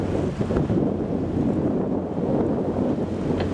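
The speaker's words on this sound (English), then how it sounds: "watching the waves and listening to them" A constant, heavy roar of surging sea water fills Fingal's Cave on Staffa, loud and unbroken, with gusty buffeting over the top.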